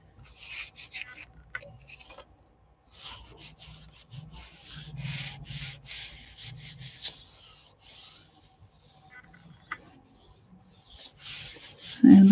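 Paper being rubbed by hand over a Gelli print laid on Masonite board, a soft, steady scratchy rasp in repeated bursts with brief pauses, close and fairly quiet.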